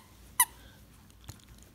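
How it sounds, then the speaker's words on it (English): A squeaky yellow dog toy gives one sharp, bright squeak, followed by a faint soft thump in an otherwise quiet room. "And my toy squeaks."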